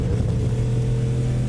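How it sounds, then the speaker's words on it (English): A simulated race car in iRacing, the Williams Esports Chill Blast machine at Sebring, bump-starts and its engine fires up into a steady, loud, low droning rumble with no voices over it. "as the car pulls away under the electric power and then fires up the ice as it gets ready to rumble once again"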